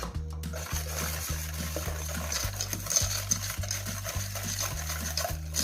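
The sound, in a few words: whisking egg yolks, sugar and cornstarch in a bowl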